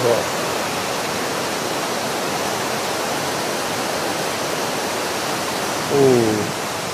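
Swollen, muddy river water rushing at the Lata Rambong waterfall campsite in Perak, running high and strong after rising. It is a loud, steady, unbroken roar throughout, and a brief voice rises over it near the end.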